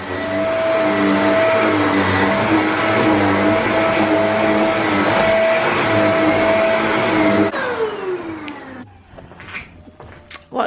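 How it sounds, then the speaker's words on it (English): A vacuum cleaner hoovers the removed front foot mats of a Ford Transit campervan, a loud, steady whining drone that runs for several seconds and then winds down to quiet. "I've actually took the front of my foot pads out and I'm hoovering them"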